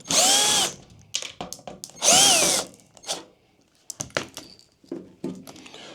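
A power drill backs out the front screws holding a washing machine pump, two loud whirring bursts of the motor followed by scattered clunks and taps of handling at close range.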